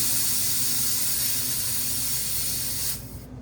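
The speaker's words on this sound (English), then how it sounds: "I'm going to go up to here and purge out my outlet hose." Refrigerant gas hissing loudly and steadily as a gauge hose is purged during a condensing unit change-out, cutting off abruptly near the end.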